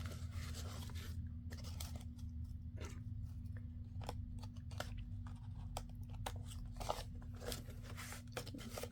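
Scissors cut paper for a junk journal, quiet and close, with repeated crisp snips and crunchy rustles at an uneven pace and no speech.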